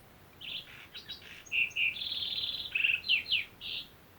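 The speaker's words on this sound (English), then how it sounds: "A sparrow sounds like this." Bright, high chirps and tweets from a small bird, a quick run of varied notes with short pauses, close and clear against a quiet background.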